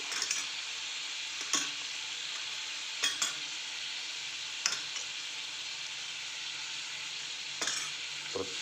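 Spinach dal sizzles steadily in a pan, a bright continuous fry broken by a few sharp scrapes and clinks of a spoon stirring, close and without talk.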